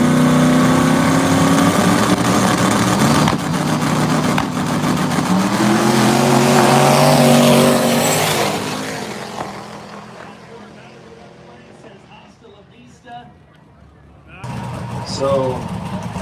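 A drag racing car with a turbocharged 5.3 LS engine roars loudly at a no-prep event, with a sustained rising engine note that fades after about eight seconds, while an announcer talks over it throughout.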